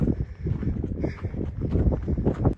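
Gusty wind buffets the microphone on a mountain section of the Pacific Crest Trail, rumbling in uneven low surges that rise and fall close up, with no one talking.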